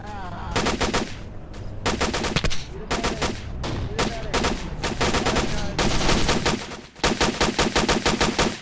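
Rapid automatic gunfire from the military shooter game Armed Assault, loud dense bursts and volleys repeating in clusters with brief gaps, heard alone without talk.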